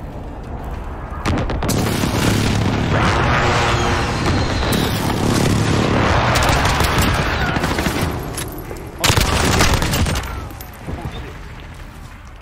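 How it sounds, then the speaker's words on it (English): Dense, loud battlefield din from Call of Duty: Modern Warfare as a precision airstrike lands: continuous rattling gunfire and heavy blasts, with a sharp burst near the nine-second mark and a brief voice underneath. "Precision airstrike on the way."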